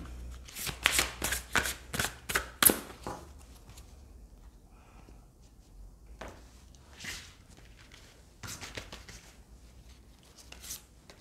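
Oracle cards are slid, shuffled and shifted across a table. A quick run of close papery flicks and taps opens the sequence, followed by softer scattered card handling with quiet pauses between.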